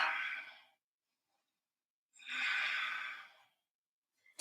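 A yoga practitioner breathes out audibly in two separate close sighing breaths with silence between them, then a brief sharp intake at the end.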